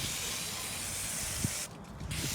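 General cleaner is sprayed onto the starter motor of a Mitsubishi Outlander in a steady, close, loud hiss that breaks briefly near the end, with no talking.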